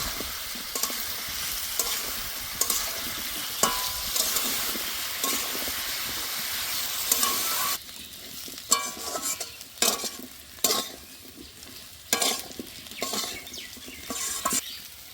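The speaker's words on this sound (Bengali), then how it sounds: "এঁচড় ভালো করে ভেজে নিয়েছি, এখন তুলে নেব।" Young jackfruit pieces fry with turmeric powder in a pan, a loud continuous sizzle for the first half, then quieter frying under repeated clinks and scrapes of a spoon stirring against the metal.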